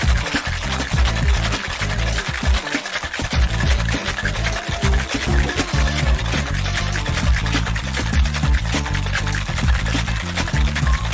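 A cocktail tin packed with ice is shaken hard and steadily for several seconds, giving a loud, continuous rattling churn of ice against metal with no pause.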